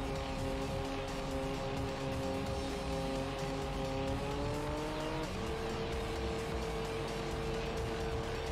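A race car engine in Gran Turismo 3 holds second gear for the LMP Dragon lap, a loud, steady droning whine that slowly climbs in pitch, then briefly dips and settles, with tire noise underneath and no talk.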